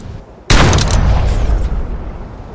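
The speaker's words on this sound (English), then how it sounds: "I mean, it's a bloody cannon." A cannon fires in a PSVR2 game on PS5 Pro, one sudden loud boom that rings out and decays into a long rumbling tail.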